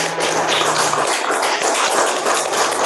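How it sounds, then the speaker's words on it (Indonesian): Fifth-grade primary schoolchildren clap together in a classroom, a dense, steady wash of many hands lasting a few seconds, close and loud, with no talking over it. "Tepuk tangan dulu."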